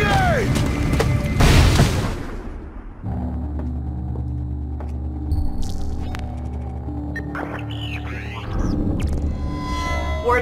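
A grenade blast in Splinter Cell: Blacklist booms loudly near the start, followed by a low rumbling hum and scattered game effects as the noise settles.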